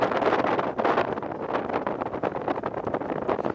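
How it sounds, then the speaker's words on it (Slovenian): Strong wind blows steadily out of a natural hole in the ground, a loud, continuous broadband rushing with gusty fluctuations and no voices. "In to kar precej močen veter."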